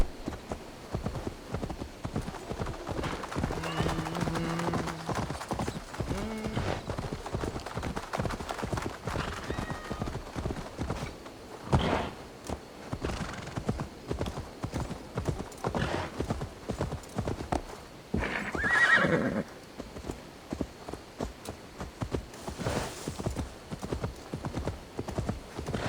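A horse's hooves clip-clop in a steady, continuous rhythm for nearly half a minute in Assassin's Creed Valhalla. A soft whinny and some tonal game sounds appear partway through.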